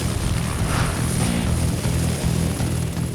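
A firefighters' helicopter runs close by, its rotor and engine making a steady, loud low throb with a rhythmic pulsing beat and constant broadband roar, no voices.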